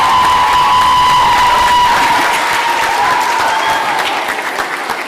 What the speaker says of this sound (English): Let's give her a round of applause to all the speakers